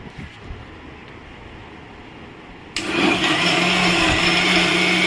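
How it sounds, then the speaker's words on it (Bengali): Mixer grinder jar blending yogurt for mango lassi, switching on abruptly after a few seconds of quiet room noise and then whirring loudly and steadily to the end. "আমি এবার মিক্সি জারে মিক্সিটা বসিয়ে দিলাম এবার আমি চালু করবো"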